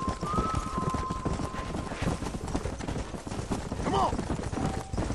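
Herd of horses galloping in the Red Dead Redemption video game, steady hoofbeats running continuously under game music and talk, with a brief whinny near the end.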